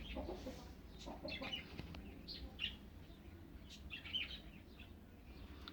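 Hens cluck and birds chirp in short scattered bursts over a steady low rumble of background noise, with a couple of roosters among chickens that are squabbling nearby.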